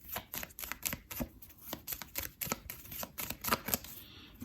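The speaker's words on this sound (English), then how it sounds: "you take all the cards and shuffle them all together" A deck of cards for the board game Ghost Fighting Treasure Hunters is shuffled by hand at close range, giving a rapid series of crisp flicking clicks in uneven bursts.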